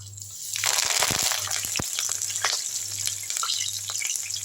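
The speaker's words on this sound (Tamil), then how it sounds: "இப்போது அதே எண்ணெயில் ஒரு பச்சை மிளகாவையும் கொஞ்சம் ஒரு கொத்து கருவேப்பிலை போட்டுக்கலாம்" Green chili and a sprig of curry leaves sizzle in hot oil, a steady close crackling fry with bright spattering pops throughout, no voices.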